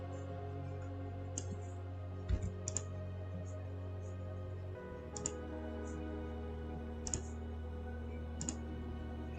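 Irregular, faint clicks from typing on a computer keyboard sit over a steady low electrical hum, with keystrokes landing in small uneven clusters.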